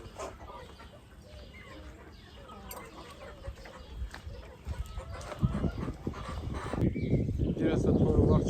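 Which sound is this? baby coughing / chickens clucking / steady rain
chickens clucking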